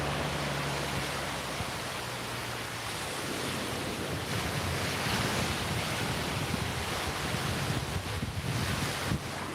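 Wind gusting across an Outer Banks beach beside a calm ocean: a steady, loud broadband roar and microphone buffeting that runs the whole time, with soft surf washing underneath and no one speaking.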